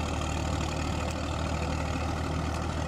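NH Ghazi 65 tractor engine pulling a 66-blade rotavator through wet mud in a puddled field, a loud, steady low diesel drone with constant churning rumble, close and unbroken.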